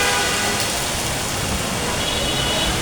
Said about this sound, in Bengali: অনেক দিন পরে শান্তির বৃষ্টি পড়তেছে।